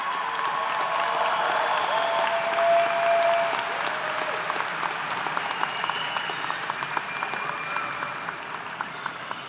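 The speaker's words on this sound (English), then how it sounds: "please, audience, give them a round of applause" A large audience at a college fall commencement applauds in a sustained, dense wash of clapping that slowly thins toward the end, with no speech over it.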